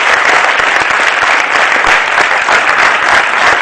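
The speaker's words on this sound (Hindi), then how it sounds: "आपकी जोरदार तालियों के बीच मंच पर बुलाएं।" Loud applause from an audience welcoming a guest onto a stage, a dense, sustained roar of many hands clapping at full strength for the whole stretch.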